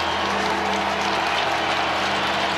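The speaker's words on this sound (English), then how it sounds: "finally getting the crowd into it." A large football stadium crowd at an NFL game between the Raiders and Colts roars with sustained cheering and clapping. The dense wash of noise holds steady throughout.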